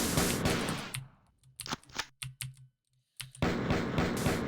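Dual pistols firing in the PC shooter Marathon 2: a rapid run of sharp, crisp shots in short irregular bursts, loud and close, between stretches of dense game noise.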